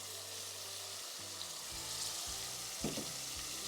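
Tomato paste frying in a pan, a soft steady sizzle with a few spoon scrapes and stirring knocks, fairly quiet and close.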